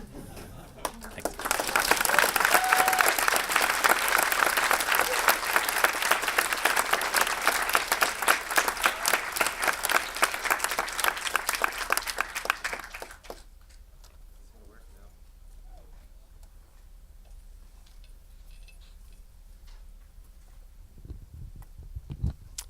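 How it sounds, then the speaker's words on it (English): Conference audience applause rises quickly into loud, sustained clapping for about twelve seconds, then cuts off to near quiet. "One more round of applause for Asher."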